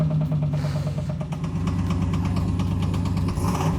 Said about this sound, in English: That big ass rod knock that everybody within a 150-mile radius heard.